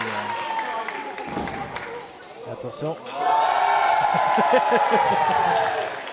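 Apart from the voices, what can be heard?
crowd applauding and cheering at a wrestling match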